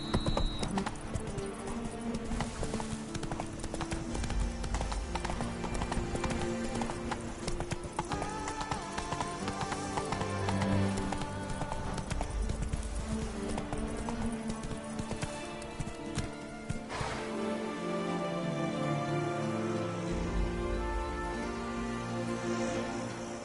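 The horse Roach gallops in The Witcher 3: Blood and Wine, a steady, continuous run of hoofbeats over loud game music and ambience, with a brief voice near the start.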